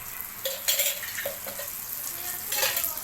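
Karli fish frying in oil in a pan, a steady close sizzle with bursts of louder spattering and a few light clinks of a utensil against the pan, no talking.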